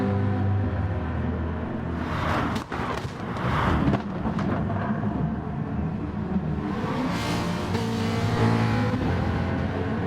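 GT4 race cars, two Ferraris and a Mustang, roar around Spa in a racing game, a loud continuous engine drone with rising revs and gear shifts, dense and close throughout.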